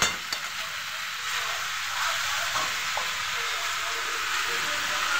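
Curry frying over panch phoron with green chili gives off a steady, even sizzle and hiss, with a few faint stirring clicks and no talk over it.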